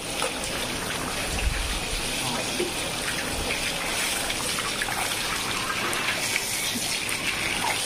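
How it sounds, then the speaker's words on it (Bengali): Water gushes steadily from a hose pipe onto a cow during a bath outdoors, a continuous close splashing wash that runs throughout with a few low thumps. "পাইপটি আগা দে তো দীপু, উঁচু করে দে, পাইপটা উঁচু করে দে"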